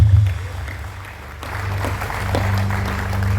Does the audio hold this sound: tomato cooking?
no